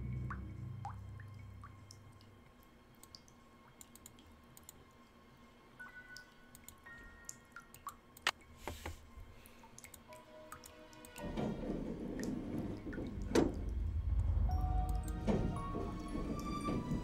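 Water dripping and flowing into a well in a Nancy Drew game, a steady patter of separate drips in a quiet, echoing space, joined midway by a louder, rushing low gurgle of flowing water.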